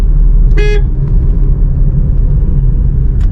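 A single short car horn toot sounds from a vehicle close behind on a highway, over the loud, continuous low rumble of the car's own engine and road noise, with a faint second honk near the end.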